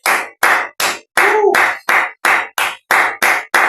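A congregation at a church service claps in praise, about eleven sharp, evenly spaced claps in a steady rhythm, with a brief tonal voice or whistle under one of them.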